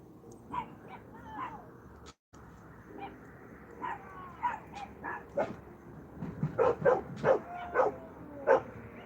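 Several dogs bark and yip at a distance, with scattered barks early and a busier, louder burst of barking toward the end.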